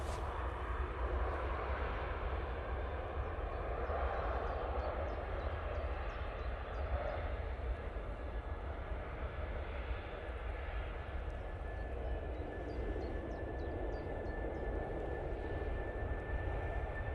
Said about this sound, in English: British Airways now lined up, ready for its departure